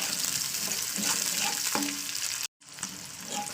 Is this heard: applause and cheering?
no